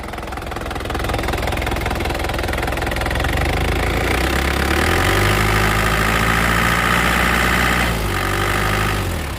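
The turbo diesel engine of a 2007 Isuzu Panther LV idles with a rough, knocking rumble, then revs up when the throttle is pressed, holds a higher drone, and drops back down.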